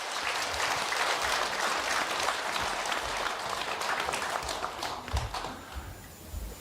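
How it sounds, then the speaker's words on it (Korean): A large audience at a Buddhist dharma assembly at Bongeunsa temple gives sustained, dense applause that stays steady for several seconds and then thins toward the end. "큰 박수 한번 주시기 바랍니다"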